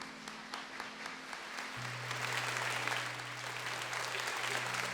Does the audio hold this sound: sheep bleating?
no